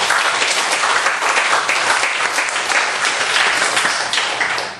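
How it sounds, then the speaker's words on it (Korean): A church congregation breaks into sustained, dense applause, many hands clapping loudly and evenly for several seconds before starting to fade at the end. "하나님께 영광의 박수 한번 쳐주세요."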